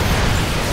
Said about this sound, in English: Notice our tower is exploding.